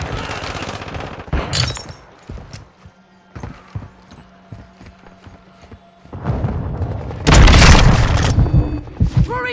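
Gunfire in Call of Duty: Modern Warfare 2 arrives in sharp bursts: loud shots near the start, a run of rapid cracks in the middle, then a heavy, booming volley toward the end.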